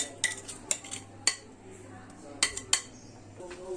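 A metal frying pan is set onto a gas stove burner with several sharp clanks and clinks of pan and utensils, spread unevenly over a quiet kitchen background.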